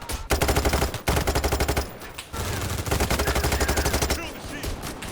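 Rapid automatic gunfire in the heist shooter Payday 3 rattles out in loud sustained bursts with brief gaps between them, dominating the mix up close.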